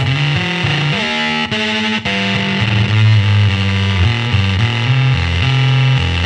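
Loud fuzz distortion with bit crushing grinds over a series of played guitar notes, harsh and saturated with jagged upper harmonics and brief dropouts between phrases, heard alone without speech.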